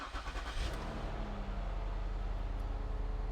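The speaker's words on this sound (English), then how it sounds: "Let me go ahead and start the car real quick." A 2008-2012 Ford Escape with a faulty air conditioner is started: a short cranking churn gives way to a steady, close engine idle hum.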